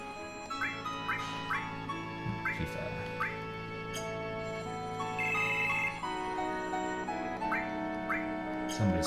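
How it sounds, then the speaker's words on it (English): A phone rings with a repeating melodic ringtone over sustained background music, with dog barks and whimpers mixed in, moderately loud and continuous. "somebody's phone's ringing."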